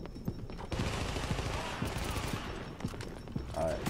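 Gunfire in Tom Clancy's The Division video game, a rapid burst of shots and fusillades crackling through a faint, busy background.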